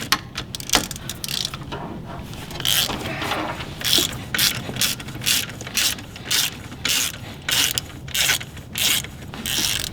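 A ratchet loosens AC compressor bolts on a 2003 Chevy S10, producing loud, close rhythmic clicking strokes in regular bursts, speeding into an even back-and-forth cadence over a low background rumble.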